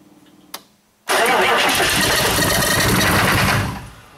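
A 6.5 diesel engine cranks briefly, then catches and roars to life with a loud, rough rumble that runs steadily for a few seconds before easing down.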